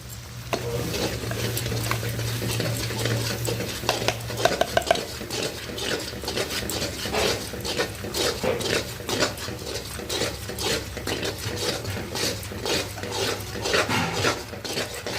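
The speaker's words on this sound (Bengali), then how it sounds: "এটা ভালো করে কষতে হবে, কষাটা যেন সুন্দর হয়।" Chicken masala paste with coriander powder and biryani masala is stir-fried in a pan, with continuous rhythmic scraping and clinking of the spatula over a soft, constant sizzle.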